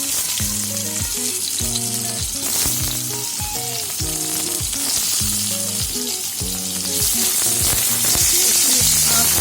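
Pointed gourd (potol) pieces fry in oil in a kadai, a loud, steady sizzle running throughout with a repeating tonal pattern layered over it and no talking.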